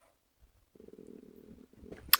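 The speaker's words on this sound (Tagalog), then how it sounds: "Itong mga pusa ko." A house cat purrs softly and close by in a steady low rumble for over a second during a makeup tutorial, ending in a brief sharp noise.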